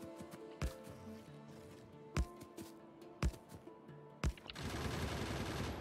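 Gun turrets firing in the Factorio video game during a biter attack, with four sharp, loud bursts spaced about a second apart, followed by a sustained dense crackle of continuous fire toward the end.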